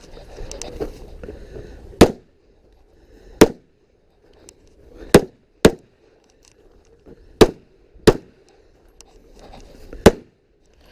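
Pistol shots ring out during an IDPA shooting match stage at Mecklenburg Wildlife Club, seven sharp, loud cracks spaced irregularly over several seconds with quiet gaps between them.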